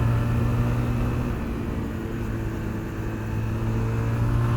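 A Zontes 350GK single-cylinder motorcycle engine drones steadily during a ride, a low, rumbling hum with wind noise, holding even throughout.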